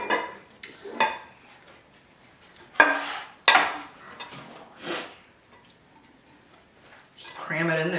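Homemade kimchee being pressed and crammed into a jar, heard as wet squishing and soft knocks of glass and utensil in short bursts, close by, with a person talking between sounds.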